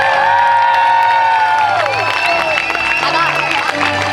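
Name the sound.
graduation crowd cheering and applauding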